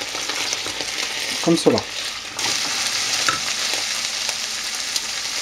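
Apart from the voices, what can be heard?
chicken pieces frying, stirred with wooden spoon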